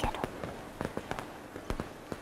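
Fireworks at a festival burst in a loose series of sharp cracks and pops, moderately distant, with faint talk between the bangs.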